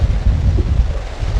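Strong wind gusts buffet the microphone outdoors on a fishing outing, a steady low roar with constant rumbling and no voices.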